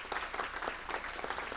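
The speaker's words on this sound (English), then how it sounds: "So everyone, please give them a round of applause." An audience at a council meeting claps in a brief, dense patter of applause, close and steady throughout.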